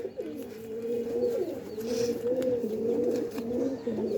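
A pigeon with an all-black tail and black toenails coos nearby in a continuous series of low, throaty, rolling calls that repeat in a steady rhythm over faint background ambience.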